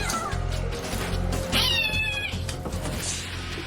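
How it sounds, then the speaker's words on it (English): Stressed, terrified domestic cats meow and caterwaul in panic, with one sharp rising-and-falling wail standing out among fainter cries over a low rumble. "These cats are domesticated, but they're stressed and terrified."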